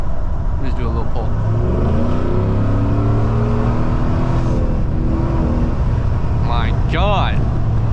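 A Ford F150 with a 5.0 V8 accelerates hard at night. The engine roar is loud and rises steadily in pitch through the pull, someone talks over it, and the pitch drops as a gear change comes near the end.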